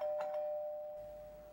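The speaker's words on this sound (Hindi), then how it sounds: "घंटी पे हाथ रख के ही भूल गया" A single electronic doorbell chime rings out, clear and steady, then fades away.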